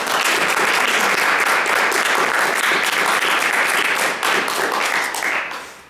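A recital audience applauds steadily with dense, sustained clapping for several seconds, tapering off at the end.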